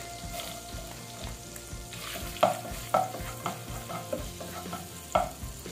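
Garlic sautés in a pan of oil for a coconut milk shrimp and vegetable dish, a soft steady sizzle with several sharp scraping stirs, close and without speech.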